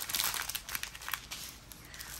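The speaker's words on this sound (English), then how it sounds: "apologize for the crinkling" Plastic packaging of diamond painting drills crinkling close by, quiet irregular rustles and crackles in short bursts, with no talk.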